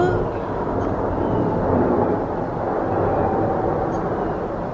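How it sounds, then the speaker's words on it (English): Blue Angels jets in a flyover pass overhead outdoors on a warm day, a loud continuous broadband roar that holds steady throughout and eases slightly near the end. "Is that a regular plane?"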